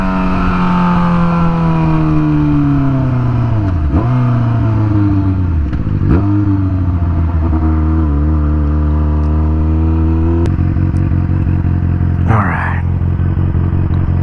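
Yamaha FZ6R motorcycle engine fitted with R6 rear-sets, idling nearby and then revving in a few blips, with steady droning tones that rise and fall, while someone briefly speaks over it.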